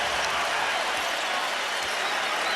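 Basketball arena crowd noise rises as a steady, dense roar of fans reacting to Shaquille O'Neal during a 2003 Spurs vs Lakers playoff game, continuous and fairly distant throughout.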